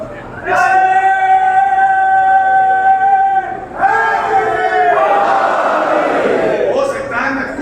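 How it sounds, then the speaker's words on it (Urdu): At a majlis in an imambargah, a single strong voice calls out a drawn-out slogan, then a large crowd answers with a loud mass chant of Naara-e-Haidari that rolls on and slowly fades. "یہاں نعرے حیدری کی اپیل کرنی پڑتی ہے"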